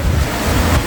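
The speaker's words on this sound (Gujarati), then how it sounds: "આજે વરસાદ જોરદાર પડી રહ્યો છે" Heavy rain pours down at home in a downpour, a loud and close roaring wash with a low rumbling buffet like wind across the microphone.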